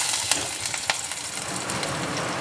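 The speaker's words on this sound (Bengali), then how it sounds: "এখন আমি এর মধ্যে দিয়ে দেব রসুন কুচি।" Chopped garlic sizzles steadily in a little hot oil with a blend of three sauces, a close, continuous frying hiss broken by a few sharp spits, with no talking.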